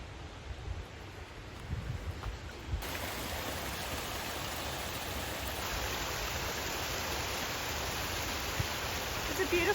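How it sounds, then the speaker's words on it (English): Steady roar of a river and nearby small waterfall below a mountain hut, a dense continuous rush of water filling the whole clip at even loudness, close and broad. "it's probably the reason why there's so much river noise down by the hut"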